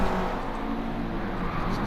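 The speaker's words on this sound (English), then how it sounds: "Just 7 cars entering the same corner, basically at the same time." Seven racing cars in a video game enter the same corner almost together, making a loud, steady blend of engine roar with no break over the short stretch.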